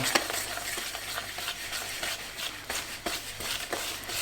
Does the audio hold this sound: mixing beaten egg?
yes